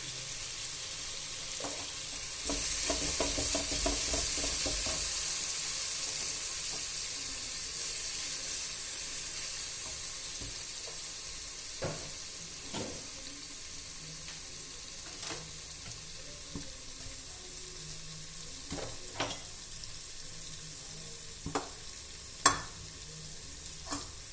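Chilli mushroom curry frying in a pan as garam masala is added, a loud sizzle that swells early and slowly fades, with intermittent scrapes and clicks of a spoon stirring.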